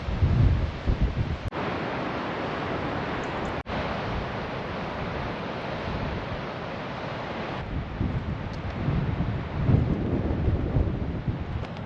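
Heavy surf roars continuously at Kimmeridge Bay, with high waves rising and crashing against the shore amid gusting wind buffeting the microphone.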